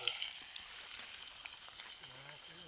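Onion frying in hot oil in a pot, a faint steady sizzle and crackle with soft stirring, with a person's voice faintly in the background.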